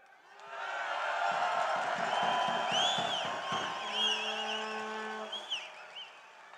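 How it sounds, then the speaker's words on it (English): A crowd cheers and shouts at an outdoor Alberta independence rally at the provincial legislature, a broad swell of voices that rises, holds, then fades, with whistles and horn-like blasts carried through it. "I appreciate that everyone's cheering for that now"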